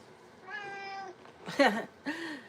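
A cat meows several times nearby: a drawn-out meow, then two shorter, sharper ones, fairly quiet against a soft background.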